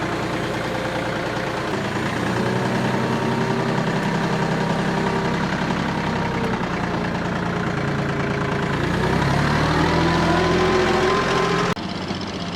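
A heavy tractor engine runs roughly and continuously with an uneven, knocking rumble, loud and close, its pitch shifting slightly before dropping off near the end.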